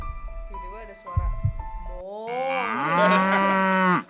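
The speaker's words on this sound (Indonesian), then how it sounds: "di dekat rumah kita tuh ada sapi" A cow near a house by a film set gives one long, loud, drawn-out moo. Before it, people talk briefly.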